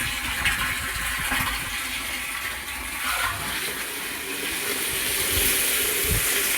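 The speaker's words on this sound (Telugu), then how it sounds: "నీళ్ళైతే పడుతున్నావు ట్యాంకీలో." Water from an electric motor pump gushes steadily into a household tank, a continuous splashing pour with low gurgling surges throughout, fairly close and with no talk.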